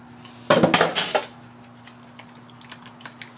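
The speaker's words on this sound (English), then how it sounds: "And we're just going to stir this all up." A spoon scrapes and clanks against a metal pot while stirring a chunky stuffed pizza filling, a burst of loud clattering strokes followed by quieter scattered taps, with no talk.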